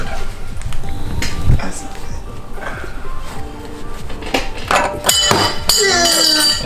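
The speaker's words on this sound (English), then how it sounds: "we're going to start by removing this anti-rattle clip right here. Take a screwdriver, kind of wedge it behind this little notch, and then kind of wedge outward" Metal clinks and scraping taps as a screwdriver pries the brake anti-rattle clip off a BMW E90 caliper, close and fairly loud, with a sharper metallic snap near the end.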